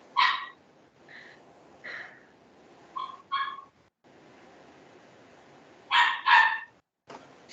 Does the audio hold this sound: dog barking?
yes